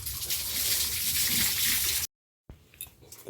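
A household tap gushes steadily and close by for about two seconds, then cuts off abruptly, leaving a brief silence followed by faint scattered sounds.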